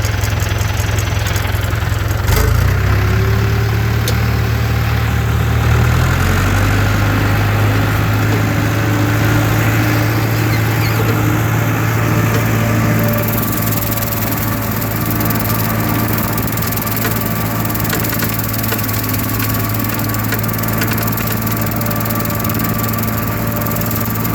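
A tractor mower clipping pasture runs with a steady mid-pitched engine drone that holds even and loud throughout, with no voices.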